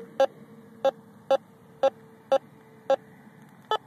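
A metal detector sounds its signal over a coin that may be a zinc penny: seven short, evenly spaced beeps about half a second apart, each with a steady tone, clear and close over a faint background hum.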